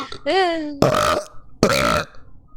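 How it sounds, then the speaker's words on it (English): A loud, drawn-out burp with a rising, croaky pitch, followed by two short bursts of noisy vocal sound close to the mic. "I burped."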